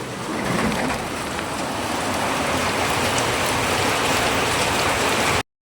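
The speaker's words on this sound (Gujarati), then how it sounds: "આમ જો મિત્રો વરસાદ એક આવે છે, અંધરાધાર વરસાદ આવે છે." Heavy monsoon downpour during a storm, a dense, loud, unbroken roar of rain drumming on surfaces nearby, holding steady before cutting off abruptly.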